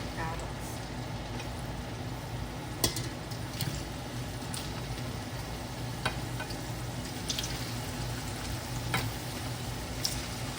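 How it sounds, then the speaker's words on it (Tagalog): Potatoes and carrots fry in a pan for beef kaldereta, a steady crackling sizzle running throughout with occasional sharper pops and stirring clinks, and a voice talking faintly in the background. "pipirituhin muna natin ang ating patatas at carrots"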